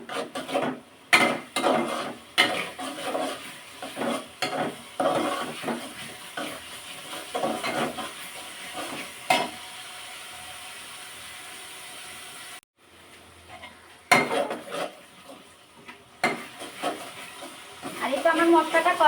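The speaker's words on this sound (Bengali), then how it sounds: "মরিচ মশলা আর এখন এগুলো একটু ভাজা ভাজা করে নেব" Chili and spices fry in a pan with a splash of water, giving a soft hiss under repeated rasping scrapes of a spatula stirring the mixture, with a brief quiet pause midway.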